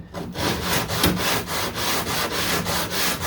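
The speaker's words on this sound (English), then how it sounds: "And even with this, the foil tape, it sands off really easy too" Steady back-and-forth sanding of body filler and foil tape on a 1969 Corvette C3, close and loud, with regular rasping strokes repeating about every third of a second.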